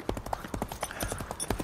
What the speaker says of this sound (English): Saddle my horse. Gallop.